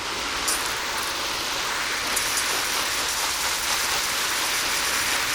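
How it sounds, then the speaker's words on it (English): A steady, hissing patter of water poured onto a dry sack to simulate rain, close by and unbroken for several seconds. "let's just simulate a good bit of rain."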